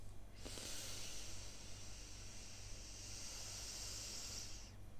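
A single long, steady breath hisses close by during a Kundalini yoga breathing exercise, an airy exhalation that holds for about four seconds and then stops.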